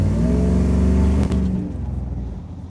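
Supercharged V8 in a Ford SVT Lightning sport truck revving hard to a peak and then dropping away, a loud, close engine roar with little supercharger whine.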